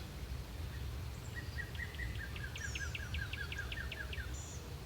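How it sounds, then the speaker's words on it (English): Birds sing outdoors at sunrise beside trees, a run of short repeated chirps and a higher trill standing out faintly over a steady low rumble of background noise, with no talking. "If I'm quiet, you can hear the birds."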